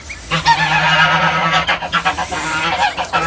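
Several geese honk loudly and repeatedly, close by, in a busy overlapping chorus with no talking.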